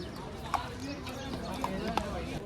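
An Indian-breed horse in the hills around Ooty makes a few scattered hoof clops on hard ground, heard under a person talking.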